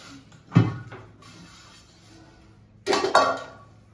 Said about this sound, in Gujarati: ધોઈ નાખો વાસણ તાર બરાબર ને